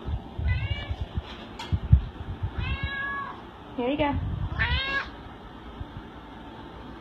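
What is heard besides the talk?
cat meowing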